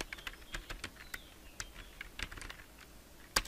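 Fingers typing on a computer keyboard while entering a package name in Sublime Text: a short, irregular burst of light, close key clicks ending with one firmer keystroke, no voices.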